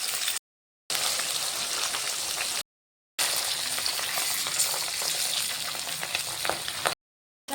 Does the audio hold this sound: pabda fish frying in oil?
yes